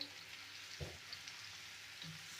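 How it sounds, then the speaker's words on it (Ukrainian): Mushrooms fry quietly in a pan as a soup is being made, with a soft, continuous sizzle and a couple of faint stirring scrapes. "просто от гриби підсмажу"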